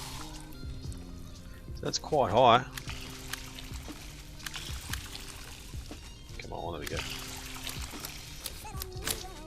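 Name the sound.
watering plants in video game Weedcraft Inc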